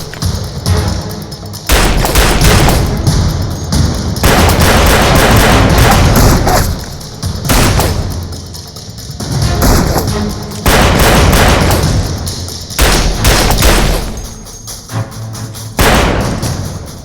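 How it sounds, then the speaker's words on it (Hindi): Gunfire erupts in a shootout where a police officer is pinned down and calling for backup, heavy booming shots and thuds in repeated loud bursts with brief lulls between them. "यहाँ गोली चल रही है।"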